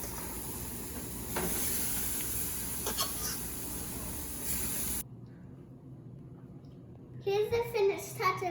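Steak sizzles in a pan with a loud, steady hiss and crackle for about five seconds, then drops to a quieter sizzle as a voice speaks over it near the end.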